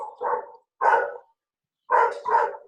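A dog barks in the background during an online class, four short barks in two pairs separated by a pause, fairly close and clear with no talk over them.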